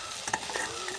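Dried fish (sukhua) stirred and fried in a pan for a village-style chadchadi: a faint, steady sizzle with soft scraping stir strokes and a few light clicks, no voices.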